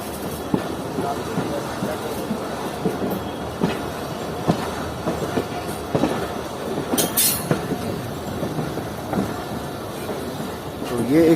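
A Marvi passenger train rolls along a metre-gauge line through the Thar desert, with steady rumble, wheel clicks and a sharp squeal of wheels, as people talk inside the carriage.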